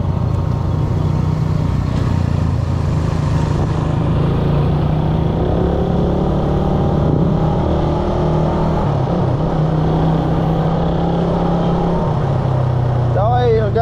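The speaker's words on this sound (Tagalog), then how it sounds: "Gamit natin ngayon is Raider 150." A Raider 150 motorcycle engine runs loud and close in a steady droning hum that holds nearly level throughout, with a brief rougher burst near the end.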